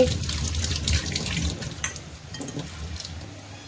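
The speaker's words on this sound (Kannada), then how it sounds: "ಸ್ವಲ್ಪ ಚಮಚ ವಾಶ್ ಮಾಡ್ಕೊಂಬಿಡೋಣ." A spoon is washed under running kitchen tap water, a steady close splashing rush that eases slightly after the first couple of seconds.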